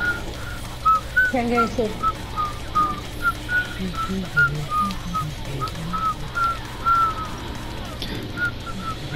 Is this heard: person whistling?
yes